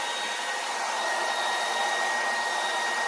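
A hair blow dryer runs steadily at close range, giving an even, airy whoosh with a faint high whine throughout and no other sounds.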